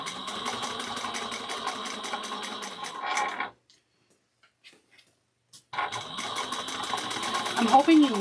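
A sewing machine stitches a handbag lining in two steady, whirring runs, close and fairly loud, separated by a short quiet pause in the middle.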